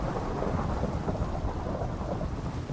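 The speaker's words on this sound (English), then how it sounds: "Oh, it is a thunderstorm." A Minecraft thunderstorm gives a steady hiss of rain under a low rumble of thunder, loud and unbroken for a few seconds, with no speech.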